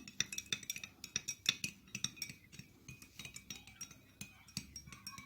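A spoon stirs spiced tea with ginger and turmeric in hot water in a glass, tapping out a quick, steady series of bright clinks that are close but fairly soft.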